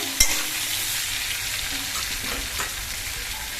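Vegetables fry in a pan, giving a steady close sizzle with a couple of sharp stirring clinks, and no one speaks.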